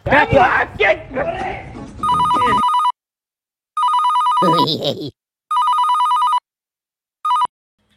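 A voice speaks briefly, then an electronic mobile ringtone plays loudly in repeated bursts with short pauses between them.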